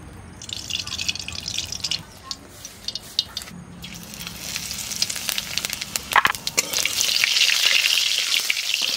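Duck meat with onion frying in a little oil, a steady sizzle with scattered drips and pops that grows louder and denser toward the end, with faint talk in the background.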